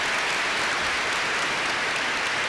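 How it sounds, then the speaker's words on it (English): Sustained applause from a graduation commencement audience, a dense, even wash of many hands clapping at steady loudness throughout, with no talking over it. "And now let's give her a round of applause."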